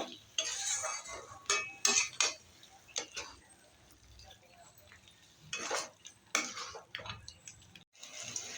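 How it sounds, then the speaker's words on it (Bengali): Mushrooms and paneer are stirred with masala in a pan, giving irregular scraping and clinking spoon-on-metal strokes that come in bursts with brief pauses, close and moderately loud. "মশলার সাথে মাশরুম আর পনিরটা একটু নেড়ে নিচ্ছি"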